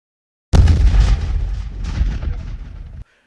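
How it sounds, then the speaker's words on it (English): Rapid weapon fire in the Paladins hero shooter, a dense burst of loud, fast shots that starts abruptly, runs about two and a half seconds, and cuts off sharply, with no talking. "his weapon still fires extremely fast"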